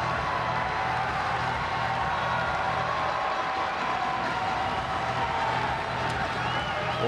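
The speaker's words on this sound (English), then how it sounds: "The crowd trying to will on Girma to something incredibly special." Crowd at an indoor track meet, the men's 3000m final, roaring and cheering a runner in a steady, sustained swell of noise, with a commentator talking over it.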